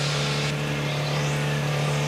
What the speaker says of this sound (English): you could hear him trip that pit lane speed limiter and light the tires up